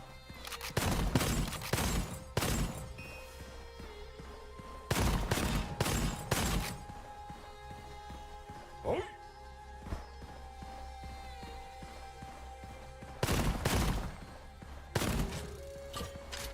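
Several bursts of gunfire ring out in a roguelike shooter game, clustered volleys near the start, middle and end separated by quieter stretches of in-game ambience and a single sharp crack midway.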